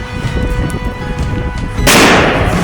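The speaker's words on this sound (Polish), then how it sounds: "kolejne miejsce, gdzie rzucamy petardę" Near silence with faint rumble, then a single loud, sharp firecracker blast near the end, its broad crackling burst lingering briefly.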